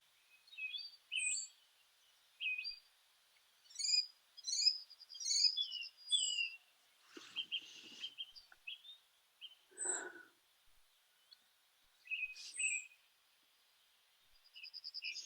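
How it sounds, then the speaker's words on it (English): Birds sing and chirp in short, scattered phrases against near silence, with brief rustling sounds in between. "I hear them now."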